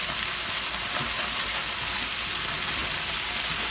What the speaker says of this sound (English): I'm going to reintroduce the pork to reheat it a little bit.